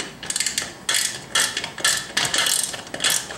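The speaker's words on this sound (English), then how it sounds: "And do the wrenching." Ratcheting wrench tightening a bolt on an Alvin CL1755-B swing-arm combination lamp, a quick run of close, crisp clicking bursts in several separate spurts, no voices.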